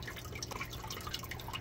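Water drips and trickles off the back corner of a home-built enclosure for a Nile monitor, a steady close run of small irregular plinks over a continuous low wash.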